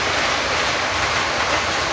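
Menards TP&W and D&H model train boxcars roll along the track alongside Lionel cars with a steady, dense rushing rumble, close and continuous throughout with no pauses.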